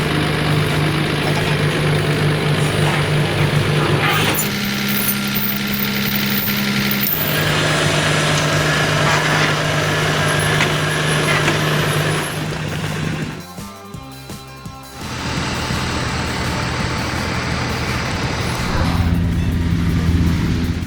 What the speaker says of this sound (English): Logging trucks, laden with freshly felled timber, brave the snow and ice, ready to conquer the treacherous roads.